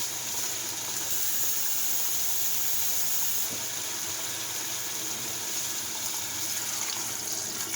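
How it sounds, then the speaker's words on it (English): Water pours into a pan of sautéing garlic during the making of a vegan bean, tomato and herb soup, a steady rushing hiss that runs unbroken for several seconds with no speech. "I'm going to add some water"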